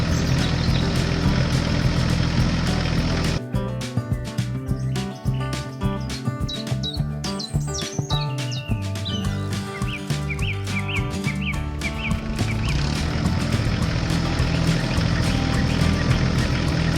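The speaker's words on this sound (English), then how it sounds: "The tractor moved slowly along a narrow, gravel road" An animated tractor moves slowly along a narrow gravel road, its engine giving a constant loud drone mixed with rattling clicks, while bright bird-like chirps flutter over the middle stretch.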